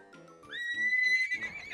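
A horse whinnies in a farm stable in a children's 3D-printed farm animation, a single loud, drawn-out neigh rising sharply then wavering for over a second, with softer clatter before it.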